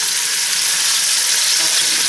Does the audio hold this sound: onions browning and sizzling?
yes